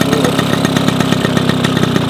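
A small vintage Motobécane moped engine running steadily, a fast, even, rattling two-stroke buzz with a regular pulsing beat, close and loud, with no one talking over it.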